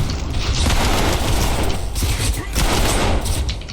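Gunfire in the TREPANG2 shooter game rattles in a loud, continuous barrage with thumping booms layered through it, dense and close throughout.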